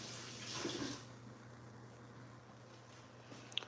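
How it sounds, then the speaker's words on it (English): Tap water runs over hands at a kitchen sink in a quick, faint hiss lasting about a second, then fades into quiet room tone. "But let me get my hand a quick wash."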